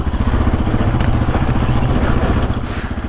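A 2022 Yamaha sport ATV engine labors loud and close while climbing a steep hill on knobby tires, its steady low rumble running throughout with clattering and scraping over the top.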